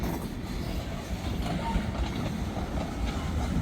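Freight train with one locomotive hauling up a grade past a county road crossing, a loud continuous rumble and clatter of wheels and cars that fills the whole clip, close by, with no pauses.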